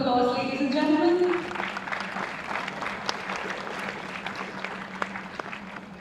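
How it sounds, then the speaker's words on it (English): Audience applause at a management education convention inauguration, steady clapping from a crowd that goes on for several seconds under a brief voice and a drawn-out tone at the start. "A round of applause, ladies and gentlemen."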